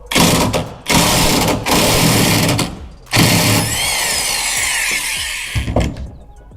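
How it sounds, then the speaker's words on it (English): A power tool with a T50 Torx bit backs a truck bed D-ring bolt out in loud close bursts of whirring, stopping and restarting several times, then clicks and quieter handling. "I'm gonna take that T50 IP, the IP specific, that makes it so that you have the rounded off edges, and I'm gonna pull the first bolt out"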